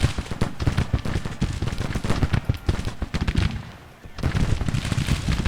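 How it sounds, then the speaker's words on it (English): Volleys of Springfield rifle muskets crackle in a Civil War battle from the video game Grand Tactician: The Civil War, dense overlapping gunfire rolling continuously with a brief lull near the end before the shooting resumes loudly. "the 2nd Rhode Island Infantry also has the Springfield rifle musket and they're opening"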